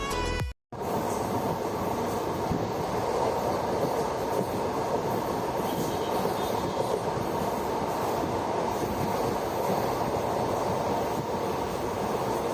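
A Kannur Executive Express passenger train running on rails, a steady loud rumble with wheel clatter and rolling noise after a brief moment of near silence at the start.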